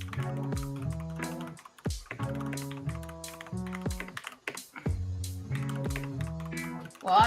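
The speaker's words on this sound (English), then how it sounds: "Well, I was just typing it in." Rapid clicking of typing on a computer keyboard, steady bursts of keystrokes that run close under background music with sustained tones.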